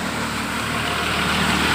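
A motor vehicle on a rural road in Assam, heard as a loud, steady engine rumble that holds constant throughout with no voices.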